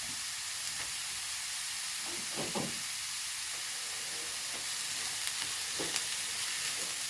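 Chopped onions sizzling softly in a pan while a utensil stirs them, giving occasional scraping clicks over a low, constant hiss.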